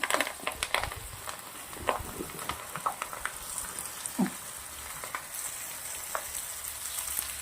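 Okra stir-fried in a pan with asafoetida, whole garlic cloves, chopped green chillies and curry leaves, giving a soft continuous crackle with scattered scraping clicks of stirring, close and moderately quiet.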